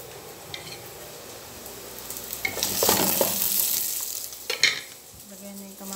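Fish sizzles steadily in a hot pan for a Saudi-style tinulang isda, with a few louder stirring scrapes and a brief clink of a utensil partway through; no one speaks.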